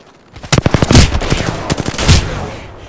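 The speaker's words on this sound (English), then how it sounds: "Opening fire." Rapid bursts of automatic gunfire in Apex Legends at close range, loud sharp repeated shots in two clusters with brief gaps, a firefight in full swing.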